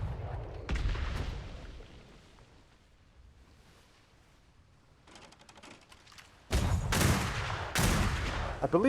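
A ship's port-side cannons fire in a naval battle game, a rumbling volley at first, then heavy booming blasts crowding the last seconds, loud and close.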